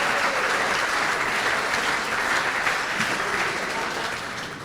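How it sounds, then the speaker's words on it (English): Sustained audience applause fills the room at a high school hall of fame induction banquet, dense steady clapping that stays loud throughout and tapers slightly at the close. "let's give Dustin a round of applause now"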